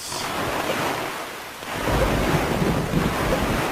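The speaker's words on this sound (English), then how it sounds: "It's stormy out on the street, as always it is." Stormy sea in Zelda: Wind Waker: heavy wind buffeting and crashing waves rush loudly and continuously, swelling stronger in the second half, with no voices.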